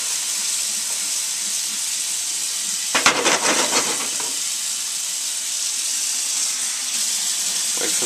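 A kitchen water tap runs to draw hot water for soaking pad Thai noodles, a steady hiss of flowing water with a brief louder splash and gurgle near the middle, close by and alone.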